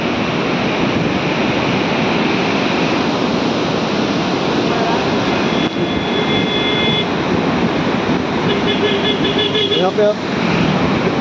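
Rushing flood water pours through the Galudih Barrage dam in Jharkhand on an evening in flood, a steady broadband roar that fills the whole clip while someone talks over it.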